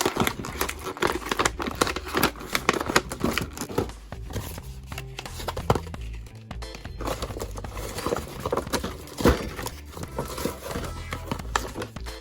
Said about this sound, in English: Let's go ahead and tear this open and see what goodies we have on the inside